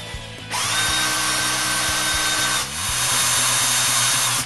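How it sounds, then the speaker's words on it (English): Power drill boring into wooden picture frame trims, a loud, close, steady motor whine that briefly dips and restarts partway through, with no talk. "He then drilled the trims and nailed them to the frame."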